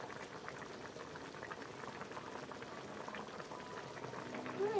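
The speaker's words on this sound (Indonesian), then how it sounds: "Bunyi dia mendidih." Cassava leaves with sardines and pork luncheon meat bubble in a pot, a soft, steady simmering close by with no talk over it.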